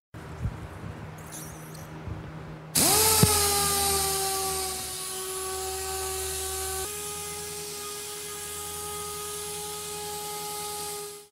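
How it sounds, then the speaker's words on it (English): After a few quiet knocks, a Quick Cut power sander sanding varnish on a boat switches on and whines at a steady high pitch, dipping slightly in tone before cutting off. "So this is going to be the first time that I've used this sander for this type of application."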